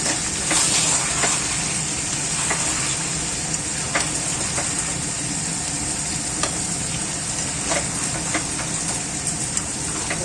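Chicken sizzles in a frying pan with a steady, close hiss, broken by small crackles and pops from the spitting oil throughout.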